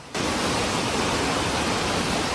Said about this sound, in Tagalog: Mistulang ilog dahil sa baha ang kalsadang ito sa barangay Sapang Dako, Cebu City.